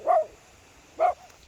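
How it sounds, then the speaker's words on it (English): A dog barks twice, about a second apart, each a short, sharp bark heard fairly close against a quiet background. "he's still barking."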